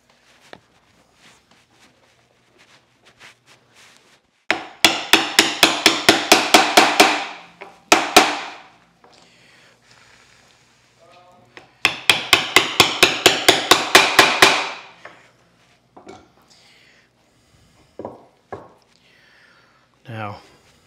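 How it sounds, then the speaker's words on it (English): Hammer tapping bushings into a Moxon vise through a wooden block, heard as two loud bursts of rapid, evenly spaced blows, each about ten strikes long, separated by quieter workshop handling and a few lone knocks. "Then we'll tap these bushings in place."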